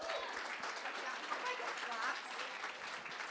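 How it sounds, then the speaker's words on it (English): An audience claps steadily to welcome Amanda Boucher, President of the Cal Alumni Association Board of Directors, at an alumni volunteer leadership conference, the applause dense and continuous throughout with no talk over it. "I hope everyone claps"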